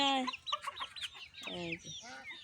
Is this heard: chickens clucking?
yes